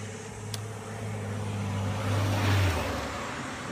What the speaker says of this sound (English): Sorry, there's a truck coming by.